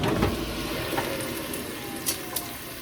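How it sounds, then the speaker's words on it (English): Bacon frying in a pan for a chicken bacon ranch pizza, giving a steady, close, fairly quiet sizzle with a few sharp pops and crackles and no talking. "I hear some sizzling, so I'm afraid I'm going to burn my bacon."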